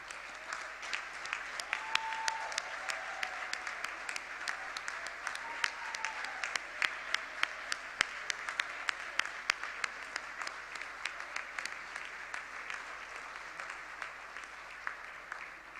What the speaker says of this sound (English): Can I please have a round of applause, ladies and gentlemen, the GFCE Secretariat.